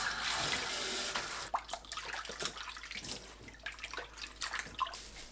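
Water runs steadily from a tap for the first second and a half, then splashes and sloshes in bursts as pumpkin leaves are swished and rinsed under it.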